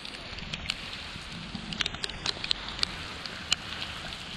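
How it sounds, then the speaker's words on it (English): Rain falling on a forest trail at Chimney Rock, North Carolina, with scattered close drips and pattering taps over a soft constant hiss. "It's raining out here."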